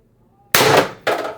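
Beeman BP50 air pistol tuned with an HD24 regulator on 800 psi high-pressure air fires a single loud, sharp crack up close, followed half a second later by a second clattering knock as the magazine drops.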